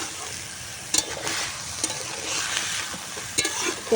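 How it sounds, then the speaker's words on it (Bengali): A beetroot and carrot curry with onion, tomato, potato and green chilli cooks in a pan, giving a constant close frying hiss broken by a few brief spoon knocks against the pan while it is stirred. "এদিকে দেখো বিট গাজরের তরকারি আমি বসিয়ে দিয়েছি"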